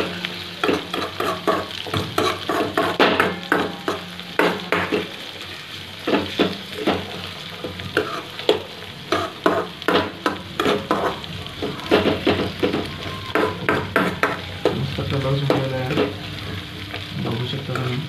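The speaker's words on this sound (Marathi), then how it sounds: "परतून घ्यायचे." Carrots and other vegetables for pasta sauté in a hot pan, a continuous sizzle broken by close, rhythmic scraping and clacking of a spoon stirring against the metal.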